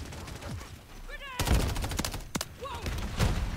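Rapid bursts of gunfire in Call of Duty: Modern Warfare III crack repeatedly, some in quick volleys, with a voice talking faintly underneath.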